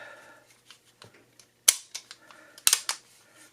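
A Tisas 1911 Stingray 9mm pistol dry-fired during a function check, giving several close, crisp metallic clicks and snaps in quick, uneven succession against near silence.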